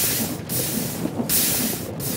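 Grinding wheels from the Create mod in Minecraft churn out a loud, steady rough hiss with a rhythmic pulsing swell roughly every second, close and continuous.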